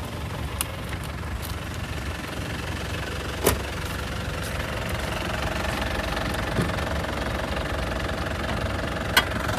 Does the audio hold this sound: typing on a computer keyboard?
no